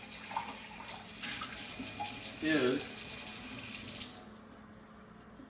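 Tap water running steadily into a sink while copper Moscow Mule mugs are washed, a soft continuous splash under a brief spoken word before the flow cuts off.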